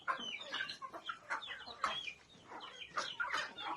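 Hubbard chickens cluck softly and continuously in a pen, several birds overlapping in a low, busy murmur.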